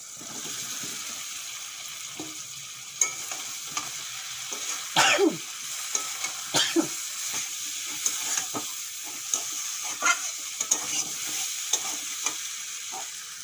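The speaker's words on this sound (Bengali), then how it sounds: "চিংড়ি মাছ আর মশলার সঙ্গে কাঁঠাল আর আলু ভালো করে কষিয়ে নিয়েছি" Prawns, jackfruit and potato sauté with spices in a pan, giving a continuous close sizzle broken by repeated scraping stirs from a utensil, with a cluster of louder scrapes partway through.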